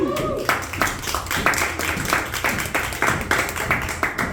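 A comedy show crowd claps together in a lively, rhythmic burst, loud and close, with a voice talking over the start.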